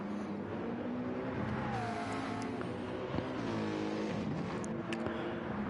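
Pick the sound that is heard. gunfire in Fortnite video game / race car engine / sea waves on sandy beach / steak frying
race car engine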